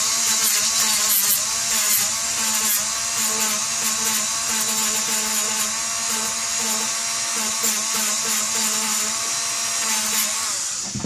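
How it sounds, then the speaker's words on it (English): A rotary sanding drum on a power tool grinds steadily against a paintball gun charging handle for a finer pass, a continuous loud whirring buzz that holds without a break for about ten seconds before easing off. "This is like a finer type of sanding."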